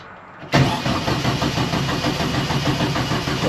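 A 1956 Volkswagen Beetle engine with two carburetors, found abandoned in a garage, cranking: after a brief quiet moment the starter kicks in abruptly, and a loud, steady, rhythmic churning follows close by to the end.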